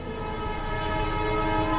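A train rumbles along steadily with a sustained horn-like tone ringing over the mechanical roar, loud and close throughout.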